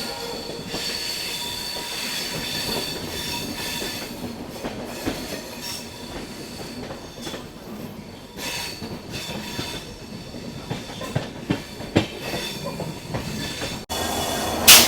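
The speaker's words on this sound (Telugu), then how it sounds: "ఈ ఒక్క గూడ్స్ ట్రైన్కి గుంజనికి 5 ఇంజన్స్ ఉన్నాయి." A long goods train hauled by five engines rolls past, a continuous rumble of wagons with rhythmic wheel clatter and high squealing from the rails, growing louder near the end.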